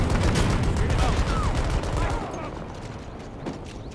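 Dense, rapid bursts of automatic gunfire and battle noise from the video game Battlefield 2042, loud and continuous for about two seconds, then thinning to scattered shots under a softer background din.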